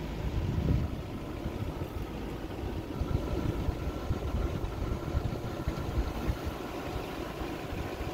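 Steady engine drone of a vehicle driving slowly around a farm equipment auction site, a constant low rumble with faint rattles throughout and no talking.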